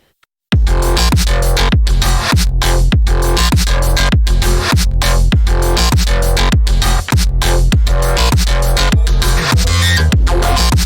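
Dark electronic track from a 2085 space odyssey-themed production, with small horror sound effects layered back in. Loud, dense and continuous, with a steady pulsing beat that runs throughout and no talking.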